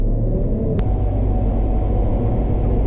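A John Deere 6190R tractor hauling a fully loaded 14-ton Richard Weston trailer of wheat gives a steady, loud, close engine rumble with cab drone, continuous throughout and free of talk.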